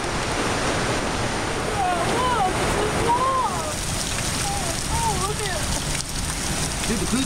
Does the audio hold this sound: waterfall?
yes